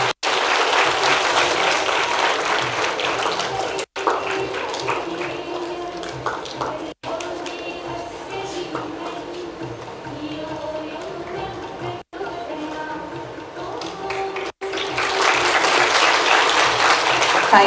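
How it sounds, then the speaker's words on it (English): Audience applause for esteemed guests at a memorial oration lecture, sustained clapping across the hall with brief cuts, a murmur of voices and some talk beneath it, swelling louder near the end. "A huge round of applause, everyone,"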